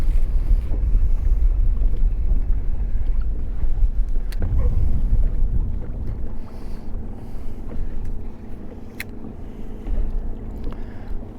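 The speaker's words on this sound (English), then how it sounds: "but we're out in the boat." A motorboat engine drones under heavy wind buffeting, with water rushing past; a couple of sharp knocks break through midway.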